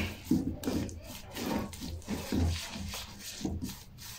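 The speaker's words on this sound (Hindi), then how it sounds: "चम्मच को चलाते जाएंगे" A spoon stirring besan barfi mixture with sugar syrup in a pan, soft rhythmic scraping and rubbing strokes, faint and close with no talk.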